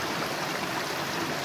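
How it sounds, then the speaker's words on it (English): Stream water flowing steadily through a forest, a dense, even rush and babble heard close by without a break for a brief moment. "The sounds that the water makes is so relaxing."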